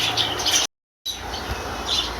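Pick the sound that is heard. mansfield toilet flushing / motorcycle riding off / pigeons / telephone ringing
pigeons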